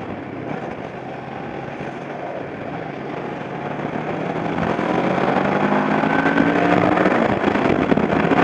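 A Kawasaki Ninja 650 motorcycle engine runs steadily close by, a continuous broadband drone with a low rumble that swells a little louder in the second half as it revs, with no talking.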